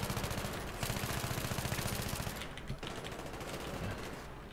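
Rapid automatic gunfire from the player's Pro 90 in Battlefield 3 on a close-quarters map, a loud, steady stream of shots with a brief pause near the middle before firing resumes.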